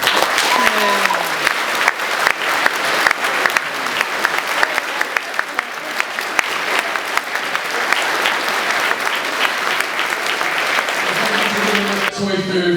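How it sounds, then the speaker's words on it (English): Sustained, dense applause from a convention audience fills the room for about twelve seconds, steady and loud with scattered sharper claps, easing toward the end as a voice begins speaking. "So, just please give yourselves all a round of applause."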